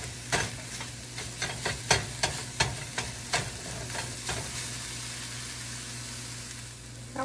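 Meatball sauce mixture is stirred in a pan, with a spoon scraping in a quick irregular run of clacks over a soft steady sizzle. The strokes fade out toward the end, and no one speaks.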